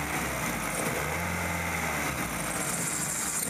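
1998 Kia Sephia four-cylinder engine idling rough with a misfire, a close, continuous low engine drone with uneven pulsing and no speech.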